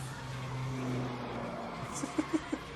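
A car in Need for Speed: The Run holds a steady engine note, then a quick series of short tire squeals as it skids and drifts, with faint talk in the background.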